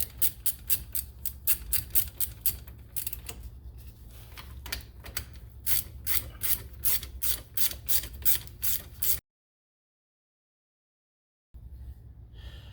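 A ratchet wrench loosens 15mm brake caliper bolts on a 1997-2004 Buick Regal, giving rapid clicking bursts in a steady repeated rhythm, close and clear, then a pause of silence and a brief final burst.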